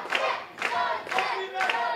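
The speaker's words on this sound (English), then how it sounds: "the fans are clapping, they're energized" Wrestling fans at an indoor Knights of Columbus show cheer and clap in rhythmic chanted bursts, roughly four swells repeating close together, with a commentator faintly audible.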